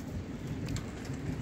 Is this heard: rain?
yes